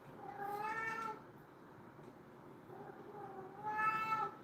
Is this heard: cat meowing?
yes